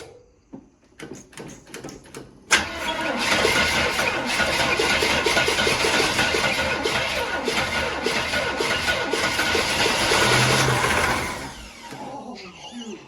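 A 1977 Chevrolet Caprice with a 350 engine cranks over steadily for about eight seconds, a rapid rhythmic churning close to the listener, then stops. Quiet voices come before and after the cranking.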